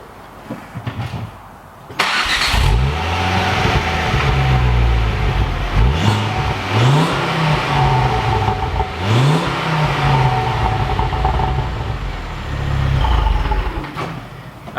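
A Ford Focus XR5 turbo engine cranks and catches, then settles into a loud, close idle broken by several quick throttle blips that rise and fall, with the turbo four-cylinder's gruff note throughout.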